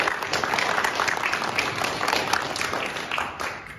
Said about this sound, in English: I want to suggest we give him a big round of applause